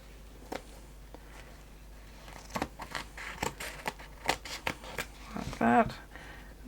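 Scissors cutting through the middle of a folded, stitched paper page of a handmade shabby-chic craft booklet: close, quiet snips and papery crinkles in scattered bursts, densest near the end.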